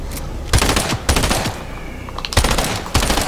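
An SMG in the video game Fortnite fires in several rapid bursts, each one loud and crackling. Short gaps separate the bursts, which are heard close up.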